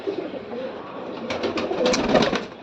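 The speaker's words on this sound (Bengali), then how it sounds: "এখানেও কবুতর, এখানেও কবুতর" Pigeons coo in soft, rounded bursts around a nest with chicks, the calls growing denser and louder toward the end over a low background hum.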